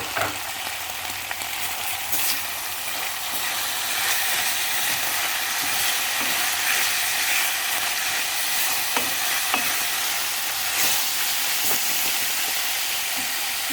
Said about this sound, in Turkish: Aralıklarla da karıştıracağım